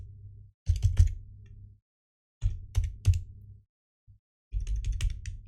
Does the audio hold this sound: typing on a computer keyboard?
yes